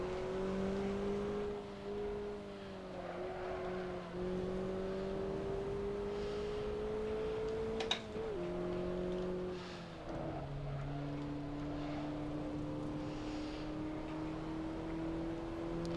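Car engine revving in the racing game AC Evoluzione, a steady high whine that rises and falls through gear changes, loud and close with no talk.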